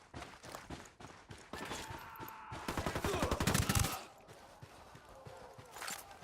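Gunfire from the Ghost Recon Wildlands video game comes in a dense burst of rapid shots, loudest midway, surrounded by scattered game effects and quieter single reports.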